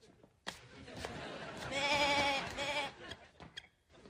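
A voice imitates a goat bleating, a loud wavering bleat held for about a second, framed by short bursts of speech before and after.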